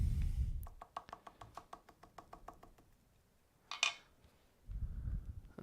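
Light, quick tapping while tooling a leather belt sheath decorated with flames, about a dozen evenly spaced soft taps, followed by a brief scrape and low handling noise.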